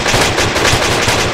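Dense, continuous automatic gunfire in a military co-op shooter, rapid overlapping shots rolling together loud and close with no pauses and no talk.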